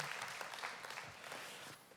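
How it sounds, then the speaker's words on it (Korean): Congregation applause at a Korean Sunday church service welcoming a returning visitor, a steady soft wash of clapping heard from a distance. "우리가 환영하고 박수 한번 하도록 하겠습니다"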